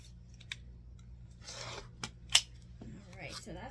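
Scissors or a cutter slicing through folded cotton fabric strips for a quilt top, a few close, soft rasping cuts and snips in a quiet room, with a sharper crisp cut near the middle.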